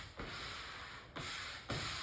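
A plastic Bondo spreader rubs across a vinyl bumblebee stripe on a 1973 Plymouth Scamp, making three steady, close scraping strokes with brief breaks between them.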